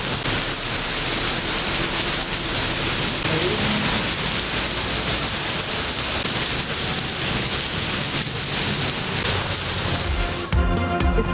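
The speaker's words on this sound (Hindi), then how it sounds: "इस्लामाबाद और रावलपिंडी में मौसम सरमा की पहली बारिश।" Steady, dense rainfall in Islamabad and Rawalpindi during the first winter rain, a continuous close hiss of drops on surfaces, loud and unbroken, with a faint low rumble beneath.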